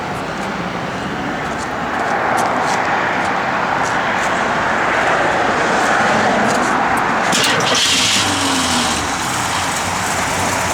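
A 1973 AMC Javelin out on the road, a steady close rumble of engine and tire noise that swells slightly partway through, with no talk over it.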